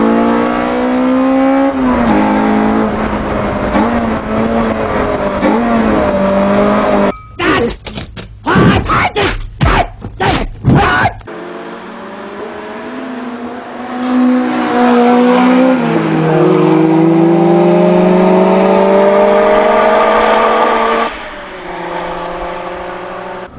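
A Lotus S1 with a Honda K20a engine drives hard through a second-gear corner, its engine note rising and falling through shifts and throttle changes, briefly broken by choppy bursts before revving loudly again close up.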